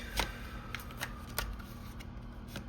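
Tarot cards being shuffled in short, crisp riffling bursts, several quick flicks spaced over a few seconds against a faint steady hum, close and fairly quiet.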